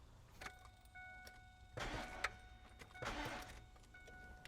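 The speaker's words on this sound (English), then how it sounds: "just two little cranks right there" Car engine cranking without starting, two brief bursts of starter grinding close by, separated by clicks and quiet pauses.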